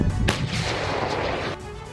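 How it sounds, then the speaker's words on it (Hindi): A Russian howitzer fires once in the Donetsk and Luhansk fighting: a sharp, heavy blast followed by a long rumbling decay that fades after about a second. "हॉवित्जर तोपों के फायरिंग की ये तस्वीरें रूस के डिफेंस मिनिस्ट्री ने जारी की हैं"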